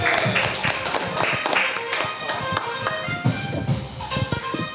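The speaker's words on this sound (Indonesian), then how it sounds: "boleh tepuk tangan buat Felix." Clapping and applause from a small group in a casual Indonesian football talk show, loud, close, irregular claps that overlap into a scattered patter, with some noise in the background.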